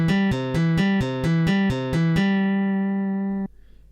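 Renoise tracker playback of synth notes, each old note cut off abruptly without fading out as a new one begins, giving eight quick, evenly spaced clipped notes, then a longer held tone that stops sharply.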